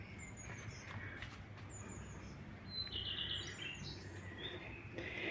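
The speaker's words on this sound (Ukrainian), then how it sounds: "пташечки співають" Faint birdsong in a garden yard with flower beds, scattered high chirps and short trills over a soft outdoor background rumble, distant and quiet.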